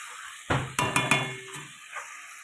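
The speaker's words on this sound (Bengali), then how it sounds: "চলো এবার মাংসটা পুরো কষিয়ে নিই" Chicken with spices fries in a pan while a metal spoon stirs it, giving several sharp scraping clanks over a steady sizzle.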